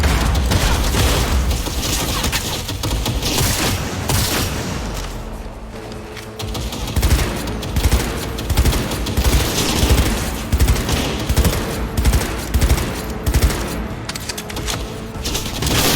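Sustained automatic weapon fire and booms in a Cyberpunk 2077 battle, loud and continuous for the whole stretch, with bursts swelling and dipping and faint voices buried in the din.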